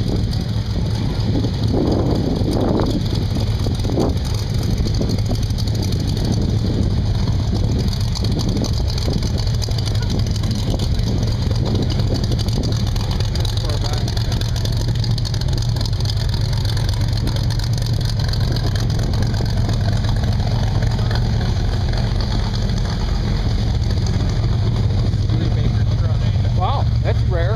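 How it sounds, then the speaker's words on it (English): Pink classic truck at a car show at Olcott Beach, NY, its engine idling with a loud, deep, continuous rumble nearby, while people talk over it. "That pink truck. Sounds like a monster."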